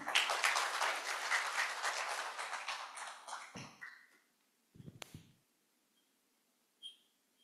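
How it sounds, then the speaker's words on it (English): An audience claps to welcome a speaker onto the stage at an international workshop, with dense applause that thins out and fades, followed by a few faint knocks and shuffles in the quiet room. "Please welcome to the stage with a round of applause, Mr. Justinus Kristianto Widiwardono."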